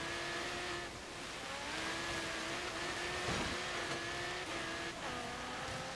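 Engine of a 2016 Audi R8 V10 plus in Forza Horizon 3, driven on a snowy hill climb, holds a steady high rev with clear harmonic tones that rise and dip through gear changes, loud and continuous with no talk.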